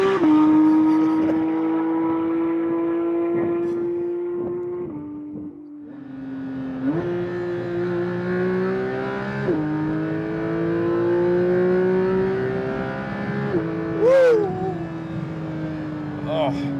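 A Porsche 992 GT3 engine wails to 9,000 rpm and climbs through gears, pitch rising steadily with brief drops at shifts, loud and close, with a voice speaking over it.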